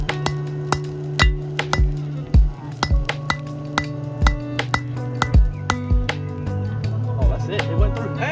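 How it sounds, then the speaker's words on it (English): A punch is hammered through heated iron to make forging tongs: sharp, ringing metallic strikes in a steady, uneven rhythm, close and loud, with people talking in the background between blows. "we're gonna use this to punch the hole in our tongs"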